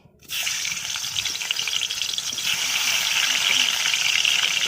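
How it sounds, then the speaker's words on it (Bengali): Potatoes marinated with salt and turmeric drop into hot oil and burst into a loud, steady sizzle that keeps crackling evenly and grows slightly stronger. "তেল গরম হয়ে গিয়েছে, এবার আমি আলুগুলো ভেজে নিচ্ছি।"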